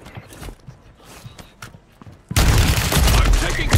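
Burst of rapid video game gunfire that erupts loud and dense after quieter thumps and movement sounds, continuing steadily to the end.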